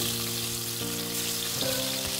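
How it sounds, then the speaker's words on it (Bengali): Prawns frying in hot oil in a kadai, a steady broadband sizzle running through the whole short stretch with low hum-like tones underneath, no voices. "তেল গরম করে নিয়েছি কড়াইতে, নিয়ে চিংড়ি মাছগুলো সবকটাকে ভাজার জন্য গরম তেলের মধ্যে ছেড়ে দিলাম।"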